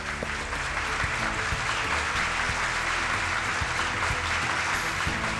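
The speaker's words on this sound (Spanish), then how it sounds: "Vamos a darles un aplauso." A studio audience applauds the winners of a quiz show, a dense, steady wash of clapping that stays loud and even from start to finish.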